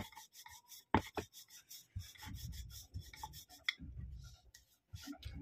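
A rolling pin works small pieces of veg momo dough on a floured surface, giving soft rubbing and scraping strokes in uneven bursts with light taps and clicks, close and quiet with no talking.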